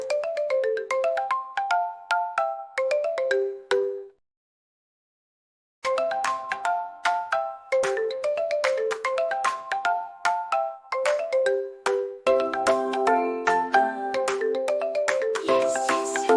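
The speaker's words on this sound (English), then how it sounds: "Go, go, ring the bell" A bell chimes in a bright, repeating melodic pattern, then falls silent for nearly two seconds before the tune resumes, steady and clear, with a fuller layered passage near the end.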